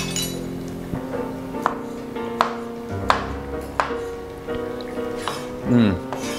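A knife slices sausage on a cutting board in a home kitchen, sharp knocks landing at a steady pace of roughly one per second, close and distinct, with a faint background hum and a little clinking.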